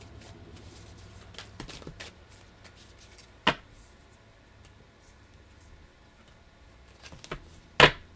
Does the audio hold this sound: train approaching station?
no